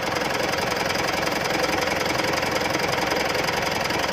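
Steady idle of a 2015 Mitsubishi Pajero Sport GLX engine, a continuous close-up clattering rumble with an even, fast knocking pulse and no talk.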